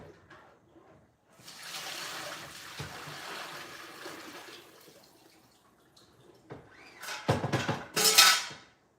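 Tap water runs into a cooking pot being refilled for canning meat, a steady pour lasting several seconds, followed by clattering and splashing as the pot is handled and rinsed near the sink.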